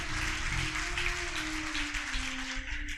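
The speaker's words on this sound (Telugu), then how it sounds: "ఇంకా గట్టిగా ఆలోచిస్తాడన్న వాళ్ళు చప్పట్లు కొడుతూ దేవుని మహిమపరచండి।" A church congregation clapping during Sunday worship, a continuous wash of hand claps with a low sustained tone underneath, steady and fairly loud for about three seconds.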